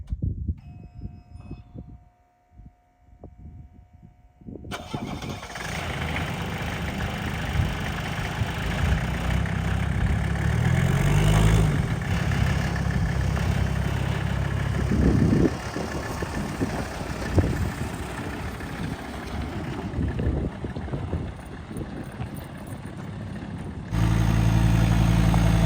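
A Mini Cooper car engine starts after a few seconds of quiet handling sounds, then runs steadily at a close, rumbling idle with occasional revs for about twenty seconds.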